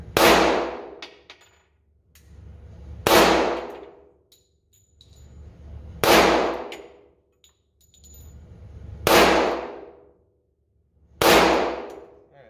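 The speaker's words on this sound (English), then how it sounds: "That was 10 rounds, fairly rapid fire." An FK BRNO pistol fires five single shots about three seconds apart, each a loud close sharp crack with a quickly fading ring, separated by near silence and no talking.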